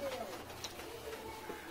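A pigeon in a loft coos softly under nearby talking. The low calls are faint and partly buried by the voice.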